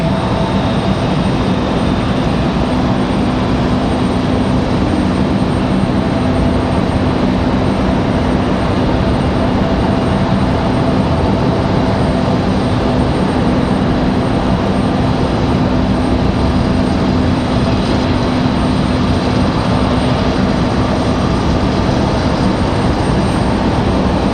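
An airliner arriving from New York at Raleigh-Durham airport produces a loud, steady broadband engine roar that holds unbroken for the whole stretch, with no voices.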